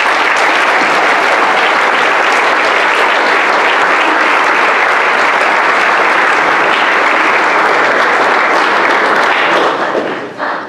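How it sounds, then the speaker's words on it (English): A hall of fame ceremony audience at a college athletics event gives loud, sustained applause, dense clapping from many hands filling the room before tapering at the end. "Let's give them one more round of applause."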